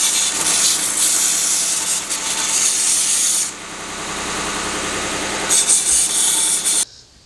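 A small Vevor 1x30 belt sander grinds a burr off a piece of tool steel, a loud steady abrasive rasp that pauses briefly mid-way and then resumes before cutting off abruptly.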